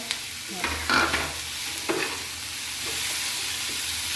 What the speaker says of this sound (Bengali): এটা একটু ভেজে নিই। মাছটা দিয়ে দেবো, সেদ্ধ করে রাখা।